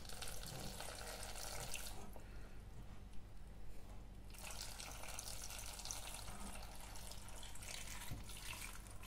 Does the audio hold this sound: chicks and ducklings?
no